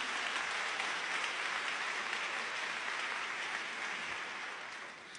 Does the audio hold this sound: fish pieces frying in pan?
no